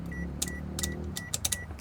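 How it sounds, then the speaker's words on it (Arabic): Interior buttons of a 2016 Daihatsu Grand Terios pressed several times, giving sharp, close clicks in irregular bursts, some in quick pairs, against a quiet low cabin hum, each click followed by a soft electronic beep. "دي صوت الزراير بتاعته."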